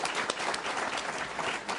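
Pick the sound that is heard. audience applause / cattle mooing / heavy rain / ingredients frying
audience applause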